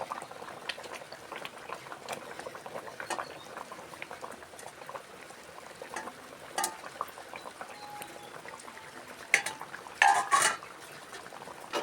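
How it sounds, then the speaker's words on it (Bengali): Thin fish curry with small fish and thankuni leaves bubbling in a pot: a soft, continuous boil with gentle liquid popping, plus occasional clinks of a utensil against the pan and a louder clatter toward the end. "এবার আমি মাছগুলো দিয়ে 5 মিনিট ফোটাবো।"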